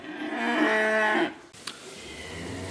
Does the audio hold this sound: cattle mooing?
yes